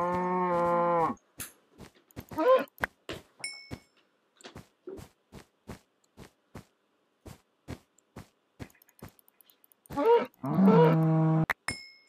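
Minecraft cows mooing in a hardcore survival world: a long drawn-out moo opens, another follows mid-clip and two more close it, separated by sharp clicks and hits.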